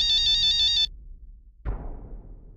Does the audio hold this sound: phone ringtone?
yes